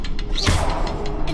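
Incendio fire spell cast in Hogwarts Legacy, a short whooshing burst with a rising swirl of flame over a steady game ambience, close and fairly loud, lasting about a second.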